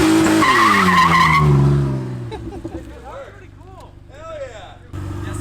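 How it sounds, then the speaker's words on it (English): A car does a neutral drop: an engine revs high and then falls away, followed by tires squealing and skidding in several chirping bursts, with voices and background noise underneath. "I've never neutral dropped a car before"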